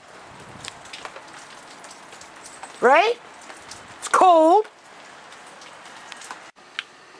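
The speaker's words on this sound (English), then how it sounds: "It's pouring rain. Well, not pouring now, but it's raining." Rain falls outdoors in a soft, steady patter, with a voice speaking over it and two brief, sharp sweeping squeals rising above the wash.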